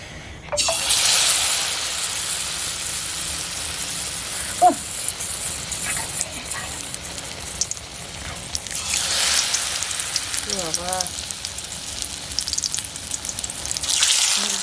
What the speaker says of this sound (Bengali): বন্ধুরা আমি লঙ্কার চপটা ভেজে নিচ্ছি